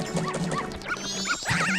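A dog in the Zelda Majora's Mask video game gives a quick run of short barks and yips, close and clear, with chiming game sound effects layered over them.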